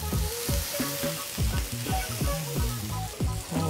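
Burger patties sizzle loudly on a hot griddle, a steady frying hiss with repeated scraping and pressing sounds as they are flattened down, close and continuous with no talking.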